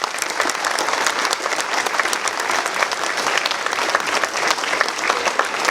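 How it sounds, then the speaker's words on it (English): An audience at a school book ceremony applauds warmly for an official, a dense, lively clapping crowd sustained at steady volume through the whole stretch. "Please join me in a round of applause for Dr."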